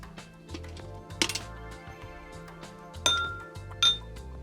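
A spoon clinks against a glass or metal pot while food colour is stirred into cooked basanti pulao, giving sparse, bright taps and scrapes over a quiet background with a few sharper rattles.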